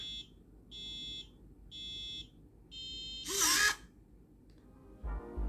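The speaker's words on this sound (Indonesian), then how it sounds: "nanti buzzernya itu akan bunyi seperti ini nih." Four evenly spaced, high-pitched beeps from the electronic buzzer of a homemade rock-paper-scissors robot, followed by a brief louder burst of noise and a faint thump near the end.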